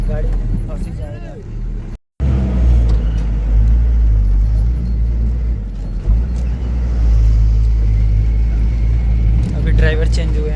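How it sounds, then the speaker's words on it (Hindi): A heavy truck labours slowly along a badly broken mountain road in Nepal's Bajura region, its deep engine rumble steady and close, with a brief cutout near the start and voices talking over it. "इस समय ट्रक हमारे पास गई है, निकलने की कोशिश हो रहा है।"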